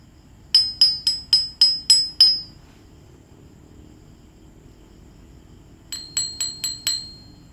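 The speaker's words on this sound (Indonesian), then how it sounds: "Nih guys ya, bunyi seher NPP nih." A metal NPP piston for a two-stroke Suzuki Satria motorcycle is tapped in two bursts, seven sharp ringing strikes and then five, each a bright metallic ping with a short decay, close and loud in a quiet room.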